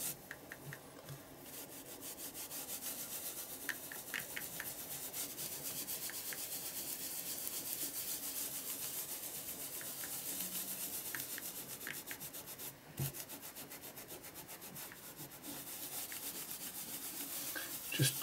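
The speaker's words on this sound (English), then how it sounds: "So I'm going to go over and just rub see what we can remove." A wet wipe rubbed over an art journal page, a soft continuous scrubbing with steady rhythmic strokes, close and quiet, heard alone.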